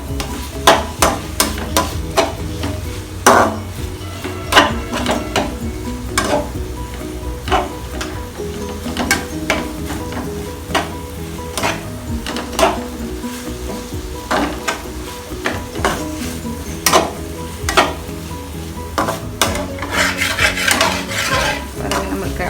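Onion and tomato being sautéed in a pan for Tamil egg khurma, with a steady close sizzle broken by frequent sharp scrapes and taps of a spoon stirring against the pan.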